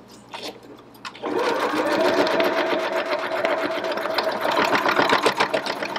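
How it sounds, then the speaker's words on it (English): A Janome HD5050 heavy duty sewing machine stitches through several layers of heavy denim with a loud, steady, fast mechanical chatter that starts after a second of quiet and runs to the end. "I'm sewing through a heavy denim here, and this will represent that side seam on my pair of blue jeans"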